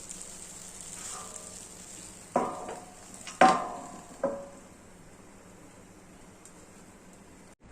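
A plate is set down over bread pizza in a sizzling pan, giving three sharp clinks of plate against pan over a soft, steady frying hiss.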